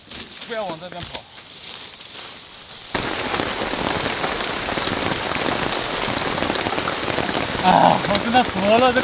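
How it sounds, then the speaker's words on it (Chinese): Heavy rain pours down on an island coast, a loud, dense hiss of drops that bursts in suddenly after a short stretch of speech and then continues steadily, with a few brief voice sounds mixed in. "我真的服了这个烂鬼天气了，说下雨就下雨。"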